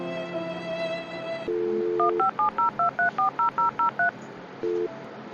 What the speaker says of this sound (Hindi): हम चाची जगह फोन लगा के पूछा मैं